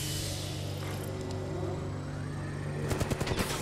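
Gunfire in the video game Apex Legends during a fight, steady layered game sound with a burst of sharp, rapid shots near the end.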